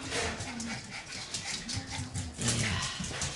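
Shiba Inu puppies make soft whimpers and small yips, close by and fairly steady over a busy background, with a slightly louder burst near the end.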